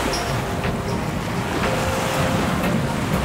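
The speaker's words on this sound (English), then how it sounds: "The great ocean, the Atlantic Ocean." Atlantic Ocean waves on the east coast of Florida near Miami at Key Biscayne: a steady, loud wash of surf with strong wind buffeting the microphone throughout, and no voices.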